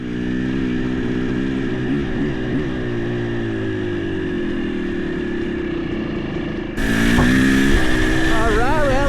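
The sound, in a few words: Kawasaki KDX 200 dirt bike being ridden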